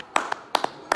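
A few separate claps sound across one second, sharp and fairly close, spaced unevenly in pairs with short gaps between them and no talking.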